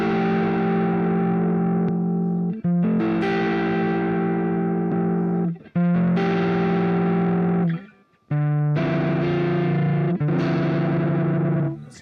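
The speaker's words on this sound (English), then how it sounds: "I have the clean drive. I think this sounds like the best drive on the Spark 2" Electric guitar through the clean drive effect on a Positive Grid Spark 2 amp, several sustained chords ringing out warm and saturated, each held for a few seconds before the next strike, with a brief gap near the end.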